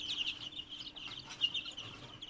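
Broiler chickens on a farm in Raozan, Chittagong, with soft clucking and chirping from several birds, faint and somewhat distant, continuing throughout with no speech.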